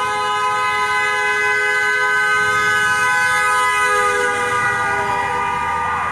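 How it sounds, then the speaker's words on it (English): Sustained car horns honk together in support at a street protest outside a home in Windermere, Florida, forming a steady, loud, layered blare that holds through the whole stretch with no talking over it. "The honking that you're hearing is in support."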